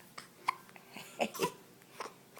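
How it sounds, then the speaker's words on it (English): A man's repeated hiccups, several sharp jerky gasps spread unevenly through the stretch, mixed with soft vocal babbling and breaths, recorded close and fairly quiet. "I got the hiccups"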